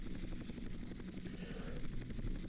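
Helicopter in Grand Theft Auto: San Andreas, a steady rotor drone with a rhythmic low chop that holds at an even loudness throughout, with no other sounds breaking through.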